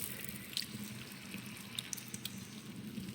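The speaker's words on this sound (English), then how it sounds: "droplets of water again start falling from the tunnel's ceiling" Water droplets dripping from a tunnel ceiling in the dungeon game Deathtrap Dungeon, a few faint, scattered drips and light splashes over a soft, steady watery background with no voices.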